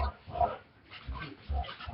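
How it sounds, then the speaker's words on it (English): An excited pet dog makes short, muffled, grunting barks and yips over a toy indoors, three or four close bursts with pauses between them. "Well, my dog has gone crazy."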